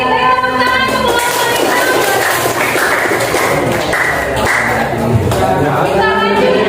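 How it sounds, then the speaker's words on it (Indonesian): Audience applause for a presenter during an Indonesian class session, a dense continuous wash of clapping that stays loud and steady throughout, with voices mixed in. "Beri tepuk tangan untuk"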